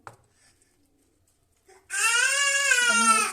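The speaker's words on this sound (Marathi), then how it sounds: "आधी रडतोय बघा असंच असतं त्याचं सकाळ उठलं की चालू" A young child bursts into loud, sustained crying after a near-silent start, one continuous wail close by with a falling pitch toward the end.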